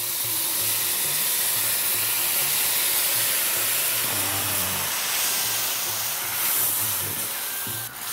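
Tamarind juice poured into a hot pan while making nukala pulihora sizzles with a steady, loud, broad hiss that continues throughout, with a faint low hum beneath and no talking.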